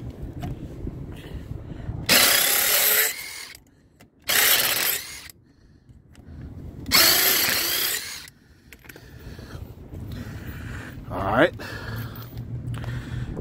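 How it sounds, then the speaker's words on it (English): Three loud bursts of a power impact driver hammering on a stripped car lug nut, each lasting about a second, separated by quieter pauses with low background noise and a brief squeak. "Out the box's impact driver has a little bit of juice"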